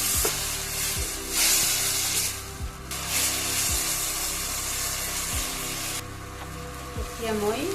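Onions frying in a pan with garlic, ginger and chili paste, giving a steady sizzling hiss that swells and eases over several seconds beneath a background tune.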